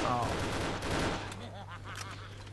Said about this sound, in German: Hinter uns wird geschossen.